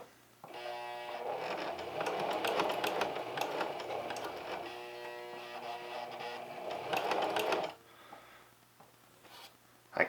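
A Singer Heavy Duty 4411 sewing machine runs steadily for about seven seconds as it stitches a small seam in fabric that is not feeding well, a close mechanical whirr with rapid needle ticking that stops abruptly, followed by a brief clunk.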